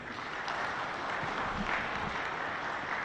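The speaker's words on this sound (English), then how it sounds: "One more time, a round of applause for the chair." Steady crowd applause from an audience at an African Union Reflection Forum session, a dense continuous wash of clapping holding at an even level throughout without voices on top.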